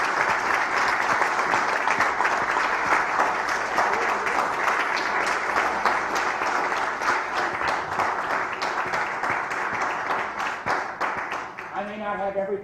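An audience at an Institute for Education public policy evening salon applauds a speaker, loud sustained clapping from a full room that holds steady for over ten seconds before trailing off as a voice begins.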